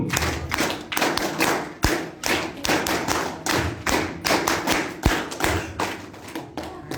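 A group of young people at a legal-awareness session clap a rhythmic 'tepuk' chant pattern in unison, a loud, steady run of sharp hand claps and thumps close by.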